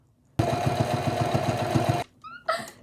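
A sewing machine stitches the lining of a makeup bag in one loud, rapid, rhythmic burst of about a second and a half, followed by brief clattering handling sounds.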